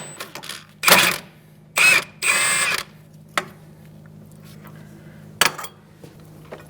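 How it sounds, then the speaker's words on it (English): Short power-tool bursts loosen strut mount nuts with a 19mm socket, a wrench holding the stud head still, on a 2002-2006 Toyota Camry rear strut. Three close bursts come early, then quiet ratcheting clicks and one final brief burst. "Using a 19mm socket, I'm going to take off the nuts, these two nuts"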